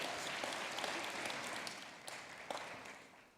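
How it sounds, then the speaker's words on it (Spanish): Congregation in a church clapping during a sermon, a dense steady wash of applause with a few sharper claps standing out, fairly distant and fading slightly toward the end. "Dale un aplauso a Él."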